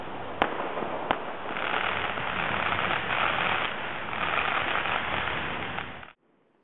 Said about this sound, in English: I'm walking down the street seeing these fireworks for Guy Fawkes Night